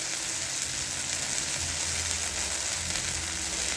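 Water poured into a pan of fried spice paste for a spicy Bengali fish curry sets off a loud, steady sizzle and hiss that carries on evenly from start to finish.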